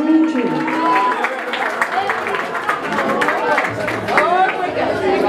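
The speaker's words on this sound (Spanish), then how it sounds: "Un aplauso bien bonito," A wedding crowd applauds after a mariachi serenade for the couple, clapping mixed with lively chatter and voices throughout, moderately loud and close.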